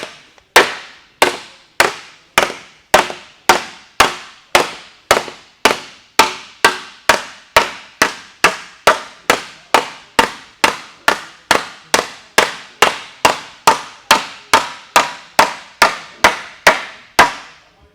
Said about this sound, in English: put some hammer hits in it with the shop bag